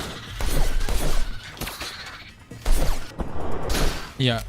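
Gunshots ring out during combat against creatures in the video game The Technomancer. Several sharp bursts of fire come at irregular intervals, and someone talks over them throughout.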